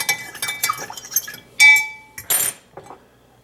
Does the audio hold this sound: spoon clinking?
yes